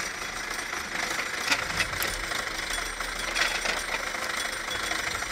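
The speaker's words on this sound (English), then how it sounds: "The Ursus C360 tractor with its powerful engine is effectively used for hauling timber in forests." A diesel engine on an Ursus C360 tractor runs steadily at a rough, knocking idle while hauling timber in a forest. The dense mechanical clatter holds at an even level throughout, with no voices.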